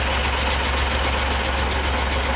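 A Thai dump truck with a trailer idles close by, its engine producing a steady, loud, even rumble with a faint rhythmic knock and no break.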